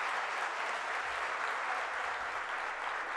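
An audience at the televised Punjabi festive evening show Jashan di Raat on DD Punjabi gives a steady, dense round of applause, continuous and even throughout, with no voices standing out.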